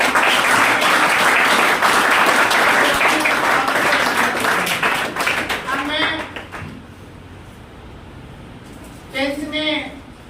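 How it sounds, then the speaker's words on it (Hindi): A loud round of applause from an audience at a coaching class honours ceremony, dense clapping for about six seconds that fades out, followed by someone talking. "एक बार जोरदार ताली"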